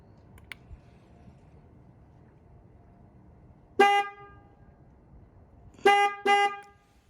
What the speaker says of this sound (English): The two horn sound that follow the first one completes the process